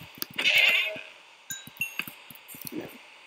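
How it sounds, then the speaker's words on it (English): A goat bleats in the Minecraft video game, one short nasal cry near the start followed by scattered clicks and small in-game sound effects, with no talking over it. "A goat."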